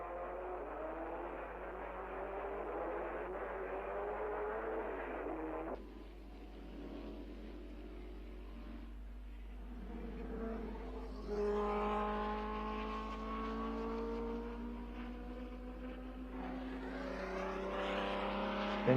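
Racing cars at the 1959 Dutch Grand Prix, with Ferraris leading the chasing pack, drone past in overlapping engine whines that rise and fall in pitch, moderately loud and heard from the trackside on an old, muffled recording.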